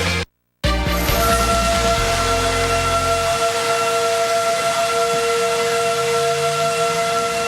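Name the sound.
tornado sirens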